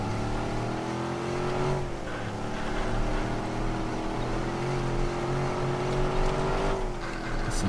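A worn-out car driven in the Watch Dogs video game, its engine a steady droning hum with slight pitch shifts as it speeds up and eases off, loud and continuous throughout with no talking.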